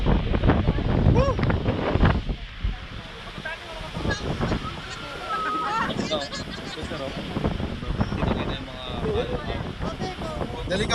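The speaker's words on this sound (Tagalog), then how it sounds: "walang harang tapos napakahangin" Strong gusting wind buffets the microphone throughout on an unsheltered open road during a ride between Gabaldon and Dingalan, a steady roar with surges, while a rider shouts and talks over it.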